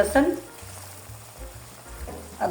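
Ginger sizzling as it drops into a frying pan of tinday masala on medium heat, a soft continuous fry with small bursts of crackle at the start and end.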